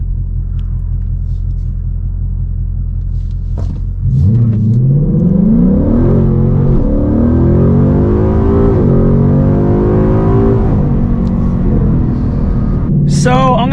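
A car launching 0 to 60 in Sport Plus mode on a chilly afternoon on factory tires: low idle rumble, then the engine roars up through rising revs with gear changes, loud and close, ending in a brief high squeal.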